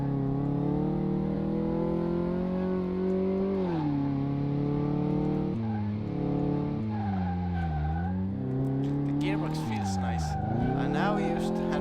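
A car in the Car Mechanic Simulator 2018 video game drives and slides through corners, its engine tone steady then dipping and rising with each shift and handbrake slide, with faint tire squeal near the end.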